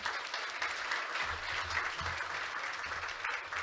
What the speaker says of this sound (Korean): 열정적인 특별 연설을 진행해 주신 박영선 전 중소벤처기업부 장관님께 다시 한번 뜨거운 박수 보내드리겠습니다.